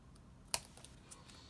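A single crisp snap as stamped paper strips are chopped down at one end, quiet and isolated against a faint background.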